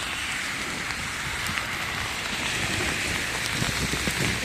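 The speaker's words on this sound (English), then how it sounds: "It's raining snow." Steady hiss of sleet and wet snow pattering on surfaces in Kanazawa, Japan, a dense, even patter with faint scattered drops, no voices.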